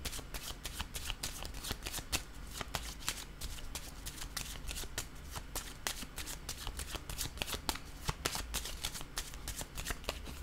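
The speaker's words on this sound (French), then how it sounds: "Je vais déposer une autre carte." Tarot cards handled and laid down during a reading, a steady run of rapid, crisp papery flicks and slides close up with no talking over them.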